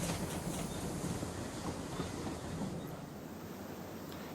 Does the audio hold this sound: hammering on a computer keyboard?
no